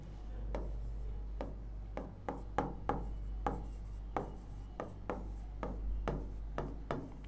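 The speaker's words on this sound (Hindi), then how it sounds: "जैसे एक उदाहरण लिख लेते हैं" Handwriting of an example sentence, with a dozen or so short scratchy strokes and taps in an uneven rhythm over a steady low hum, close and clear with no talking.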